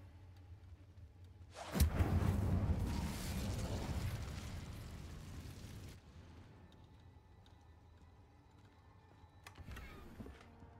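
An Incendio fire spell erupts with a sudden loud whooshing blast in the video game Hogwarts Legacy, roaring for about four seconds before cutting off into quiet ambience, with a short sharp burst near the end.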